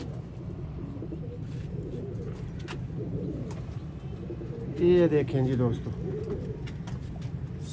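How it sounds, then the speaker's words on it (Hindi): Sialkoti fancy pigeons, an old prized breed kept as a hobby, give a short burst of cooing up close near the middle, over steady background noise while someone talks through most of it. "ये भी शौक वाला कबूतर है"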